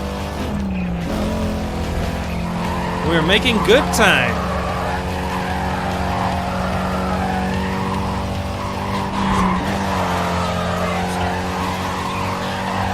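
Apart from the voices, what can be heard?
car engine and tire squeal in Need for Speed Carbon video game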